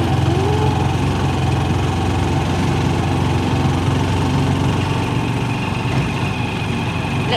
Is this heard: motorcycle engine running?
yes